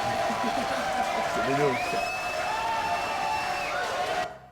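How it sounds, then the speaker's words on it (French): Audience applause in a French television studio show, a fairly steady crowd clapping that runs for several seconds under a voice and some tonal sounds, fading out abruptly at the end. "Applaudissements."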